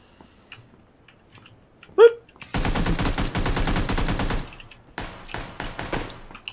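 In a battle-royale shooter game, a long rapid burst of automatic gunfire rattles for about two seconds, then shorter volleys of shots follow, with players talking faintly over the match sounds.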